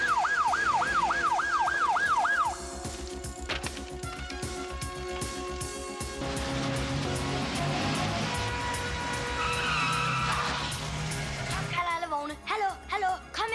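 A green Skoda car drives and skids in a 1991 Danish film scene, with a wailing siren at the start and engine noise rising into a screeching skid near the end.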